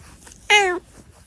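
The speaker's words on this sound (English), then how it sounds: "That's a good meow meow. I'd say that's another 10 out of 10 cat." A single cat meow, clear and fairly loud, rising then holding as a harmonic cry for about a third of a second, with quiet room background before and after and no talking.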